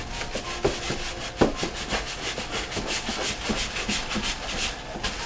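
A Breville Control Freak induction cooker is pulled out of its snug styrofoam-lined case, producing continuous squeaky rubbing and scraping with a few sharper knocks, close by, with no talk.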